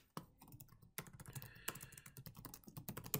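Typing on a computer keyboard, a quick irregular run of close, crisp key clicks with short pauses between bursts.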